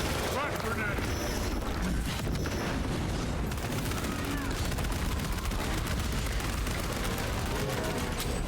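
Grenade blasts and rapid gunfire in the video game Warhammer 40K: Space Marine II, dense booms and shots filling the scene with someone talking over the action.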